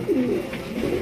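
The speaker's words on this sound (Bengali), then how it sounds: "টপ কোয়ালিটির একজোড়া দেখার মতো একজোড়া শৌখিন কবুতর, পুরো লাটিম।" A pair of fancy pigeons cooing close by, two soft throaty coos in quick succession.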